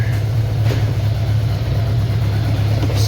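Budget bobber build motorcycle engine running steadily with a strong low rumble, held loud and close the whole time with no clear breaks between gears.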